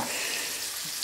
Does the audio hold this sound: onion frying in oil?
yes